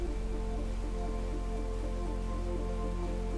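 Artificial rain pours down inside the Rain Room installation at MoMA as a dense, constant, loud patter and hiss of water hitting the floor. It is heard up close, unbroken and alone, with a low steady hum beneath.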